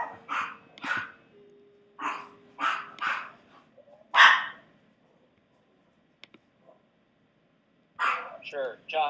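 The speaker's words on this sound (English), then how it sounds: "please ignore my dogs. You know, someone's at my door." Several dogs bark at someone at the front door in a run of sharp, loud bursts. They pause, then bark again near the end of the clip. No one speaks.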